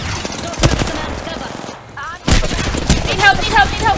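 Apex Legends gunfire: repeated sharp shots and bursts, loud and close, with a quiet gap in the middle before firing resumes, mixed with game effects and players talking over it.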